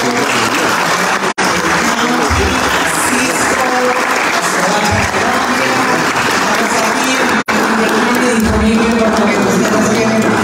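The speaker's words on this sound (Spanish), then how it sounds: "un gran aplauso" Sustained applause from a conference audience at the Inter-American Conference of Mayors, a dense steady wash of clapping filling the room for about ten seconds with only brief dropouts.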